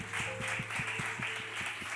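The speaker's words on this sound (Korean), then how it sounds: "우리 수료증 전달할 때도 박수로 격려하겠습니다" A church congregation in a Sunday young adults' service applauds certificate recipients with steady, moderately loud clapping that carries a regular rhythmic beat over a faint background hum.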